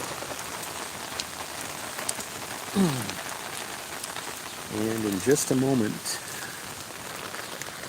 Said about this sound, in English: the noise you're hearing is actually the rain falling on the umbrella.